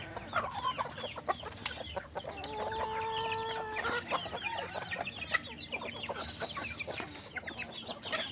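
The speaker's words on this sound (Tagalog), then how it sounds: "Yun yung roster ng ulikba" A native Filipino ulikba rooster clucks and gives a clear crow midway, close by, amid scattered clucks and chirps of other fowl in a farmyard.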